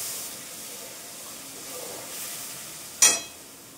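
Tomato paste going into a hot pan for a rohu fish-head curry, a soft, steady hiss of frying that flares into a sudden loud sizzle near the end, then settles back down.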